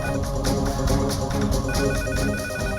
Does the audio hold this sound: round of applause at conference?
no